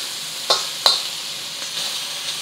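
Whole shrimp fry in a wok with a bright, steady sizzle, broken by two sharp spatula clanks and a few lighter scrapes, close up and without talk.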